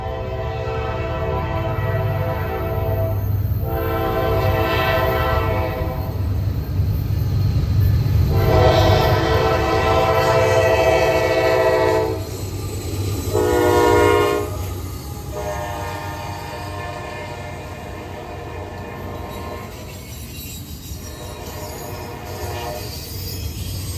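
Norfolk Southern freight train rumbling past in Gaffney, South Carolina, the locomotive horn blowing several long blasts over heavy engine drone and rolling wheel noise, loud and near throughout, no speech.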